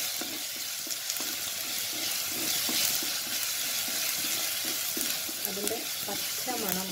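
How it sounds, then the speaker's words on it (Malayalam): Ginger, green chili and garlic dropped into hot coconut oil fry with a steady, loud, hissing sizzle that runs throughout, while a spoon scrapes and stirs the pan at close range. "ഇതാ നമ്മുടെ വെളിച്ചെണ്ണ നന്നായിട്ട് ചൂടായിട്ടുണ്ട്. അപ്പം അതിലേക്ക് നമ്മൾ ഇഞ്ചി, പച്ചമുളക്, വെളുത്തുള്ളി ഇടുകയാണ്."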